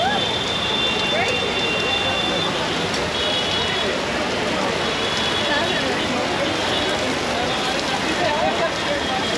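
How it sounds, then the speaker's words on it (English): Heavy pouring rain at Jodhpur fort heard from under a roof, a steady dense wash of hiss and patter that stays loud and continuous throughout, with occasional voices faint beneath it. "It suddenly just started pouring rain."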